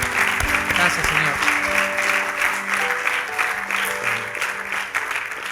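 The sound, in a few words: applause for the Lord in a church service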